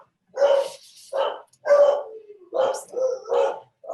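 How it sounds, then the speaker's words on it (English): A dog barks repeatedly nearby, several loud, spaced barks in quick succession with short gaps between them. "Sorry for the dog."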